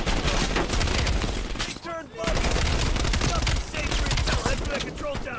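Gunfire in the Cold War campaign of Call of Duty played on Realism. Rapid, loud bursts of shots come close together, with a brief drop in the middle before the shooting resumes.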